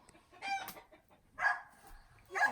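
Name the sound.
hens clucking at their night roost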